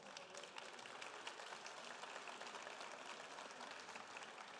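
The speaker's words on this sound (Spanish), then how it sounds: "Un aplauso, por favor." Faint, distant applause from an audience at a talk on technology and the hydrological cycle, a continuous patter of clapping that holds steady for a few seconds without anyone speaking.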